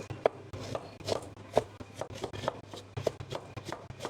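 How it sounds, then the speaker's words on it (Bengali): A knife chops four large raw, crisp guavas into big pieces, making sharp, fairly quiet cutting knocks in an uneven rhythm of about two per second, with nothing else heard. "আমি এখানে প্রথমে বড় সাইজের চার পিস পেয়ারা নিয়ে নিচ্ছি আর পেয়ারাগুলো জাস্ট একটু বড় করে কেটে নেব"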